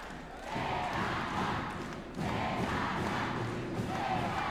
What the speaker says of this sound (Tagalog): Look at this crowd. They are cheering for Adrian Celada